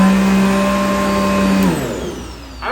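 A Riccar R40 upright vacuum cleaner runs with a loud, steady motor whine and airflow rush. The tone then drops as it begins to wind down near the end.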